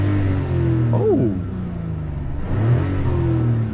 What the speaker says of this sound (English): so let's do a quick little rev test